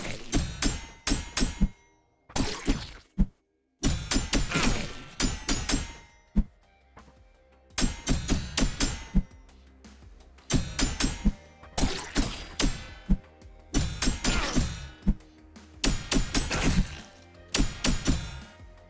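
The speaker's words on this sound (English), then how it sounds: "a shield block should sound like hitting metal" Repeated sharp metallic impact hits, as of a shield blocking in an action video game, arriving in bursts of several strikes with brief silent gaps between them, loud and close.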